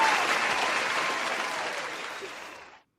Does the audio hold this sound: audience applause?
yes